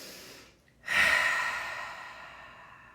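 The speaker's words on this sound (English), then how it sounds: "So take a nice inhale through your nose and exhale out your mouth." A long, audible exhale out through the mouth during a cool-down stretch: one breathy, fairly close outbreath that starts strong and slowly fades, with a softer inhale just before it.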